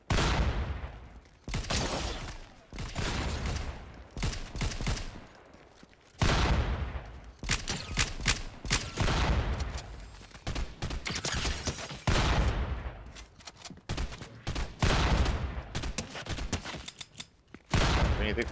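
Video game gunfire in bursts, rapid volleys of shots and fusillades repeating close and loud, separated by brief pauses, with no talk over them.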